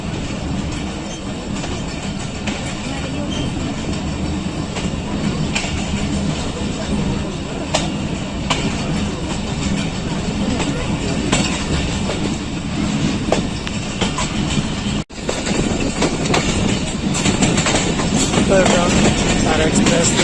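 Hazara Express running along the rails in Pakistan, a loud continuous rumble and rattle of the carriages with faint rhythmic clatter from the wheels, heard from on board with some voices mixed in.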